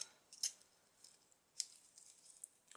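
Scissors snipping a bead while making a shabby chic cardboard tassel, a few faint sharp clicks spaced apart against near silence, close up and quiet.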